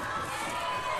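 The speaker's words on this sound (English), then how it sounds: "you can hear the crowd getting behind Matt Hardy, the FSW champion" Wrestling crowd at a tables, ladders and chairs match rallies behind champion Matt Hardy, a dense, steady roar of cheering voices with shouting mixed in, loud and continuous throughout.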